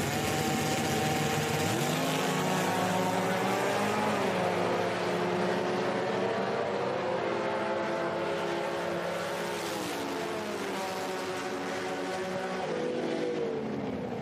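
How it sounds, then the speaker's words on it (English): A 6-cylinder Mustang drag racing at an IHRA Outlaw Nitro Series Pro Am event, with a loud, steady engine roar rising in pitch through the run, heard from a distance over continuous crowd and track ambience. "Buchanan, the 6-cylinder Mustang on the right side. And that thing's going to go low 10s with a 6-cylinder in it"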